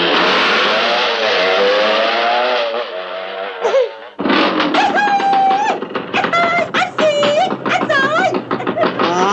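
A motorcycle engine in an old Indonesian comedy film revs hard and loud, its whine rising and falling in sustained bursts, with a short break before further shifting revs over a music-like background.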